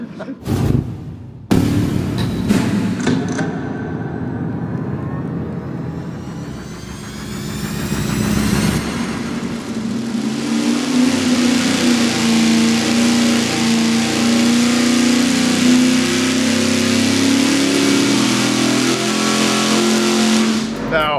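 A 500-horsepower engine on a dyno, fed by a 20-gallon-per-hour mechanical fuel pump, barks through a few sharp revs, then climbs into a long, loud sustained wide-open pull that holds steady to the end.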